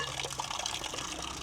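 Mountain spring water runs at Acqua de Colli in the hills of Abruzzo, a soft steady gurgling trickle close by, faint and continuous with no voices.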